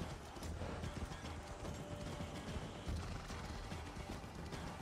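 A horse's hooves galloping in Assassin's Creed Valhalla, a rapid, continuous clip-clop over dirt mixed with game ambience, steady and fairly loud, with no talk.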